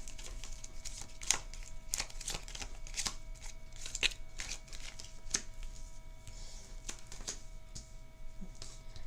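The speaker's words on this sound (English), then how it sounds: "we're going to go ahead and shuffle our deck" A deck of cards is shuffled by hand for the Microvores board game, with repeated crisp riffling and snapping bursts heard up close and alone over several seconds.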